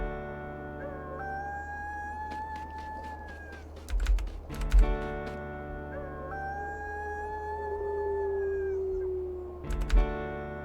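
A wolf in the video game WolfQuest howls in two long, rising and falling calls over steady game ambience, with a cluster of keyboard taps between them and another burst of clicks near the end.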